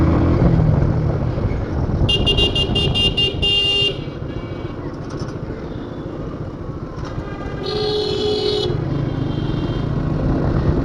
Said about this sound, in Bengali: এখন বাইক চালাচ্ছি